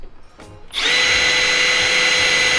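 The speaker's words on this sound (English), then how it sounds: "So John was asking me for a drill" Power drill spinning a car's speedometer cable in a Miata engine bay, starting after a brief quiet rustle, then whirring loudly and steadily at constant speed with a sustained high whine.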